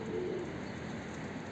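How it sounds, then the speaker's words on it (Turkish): Pigeons cooing in a loft, a low steady coo close by over a constant background hum with no talking. "Bakın burada kuş."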